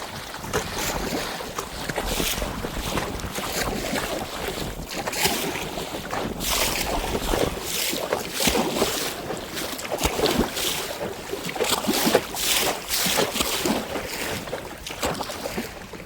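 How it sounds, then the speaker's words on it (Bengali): A rowing boat pulled hard against a strong wind on a river beside the Marichjhapi forest, with steady gusts of wind buffeting the microphone and water splashing and sloshing around the hull throughout. "তার নদীতে হচ্ছে এখন খুব হাওয়া, সেই জন্য খুব জোর কদমে আমাদের নৌকাটা হচ্ছে বাওয়া।"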